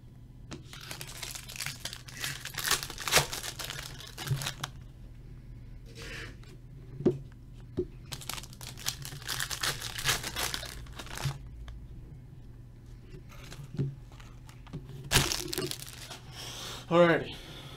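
Wrappers on Topps Museum Collection baseball card packs crinkle and tear in irregular bursts, close and crisp, with quiet gaps between the handling noises.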